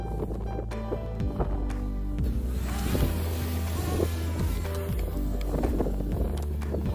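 Yuneec Breeze 4K camera drone flying outdoors through small poles on a windy day, a steady loud buzzing drone of rotors running throughout with wind noise and no talking.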